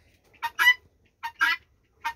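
Guinea fowl shut in for the evening on a small farm pen give three short, harsh bursts of calling, fairly close and separated by brief pauses, with no talk over them.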